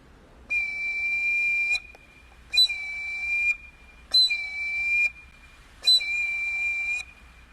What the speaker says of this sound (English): The eagle whistle sounds like this.